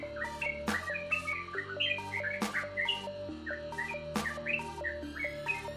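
A captive sooty-headed bulbul (trucukan) chirps steadily, close and clear, with repeated bright tweets and whistled phrases running continuously over several seconds.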